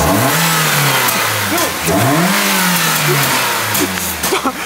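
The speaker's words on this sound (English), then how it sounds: "It revs." A swapped car engine revs repeatedly, pitch climbing and falling in several bursts, loud and close, with a rough idle between revs.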